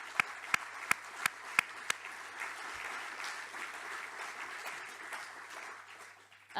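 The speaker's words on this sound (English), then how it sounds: "please join me in giving Dan Office IT a round of applause for all of the tremendous work that they did." Audience at a summit applauds, with a few sharp claps at the start before a steady wash of clapping settles in at moderate distance and then fades.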